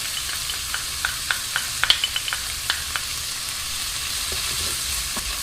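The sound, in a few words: garlic frying in a pan with chorizo and beans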